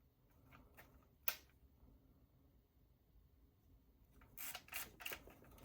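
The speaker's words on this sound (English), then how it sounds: "So there is a shutter firing now." A faint mechanical click from an Olympus XA2 camera shutter with a stuck shutter release, followed a few seconds later by a cluster of sharper clicks and rattles in a quiet room.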